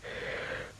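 The cartoon character Mr. Lazy gives a single breathy yawn, close and sustained for under a second before trailing off.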